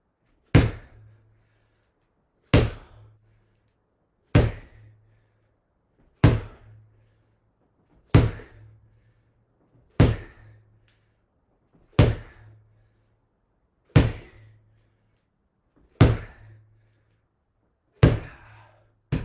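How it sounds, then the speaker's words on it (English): A medicine ball slammed onto the ground during a workout, ten heavy thuds spaced about two seconds apart, each sharp impact followed by a short low bounce, close and alone. "Medicine ball slams."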